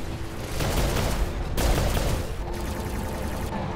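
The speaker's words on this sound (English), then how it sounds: "Who is shooting me?" Sustained gunfire from robots in the War Robots game, a dense continuous barrage of rapid shots with heavy impacts, loud and steady throughout with brief surges.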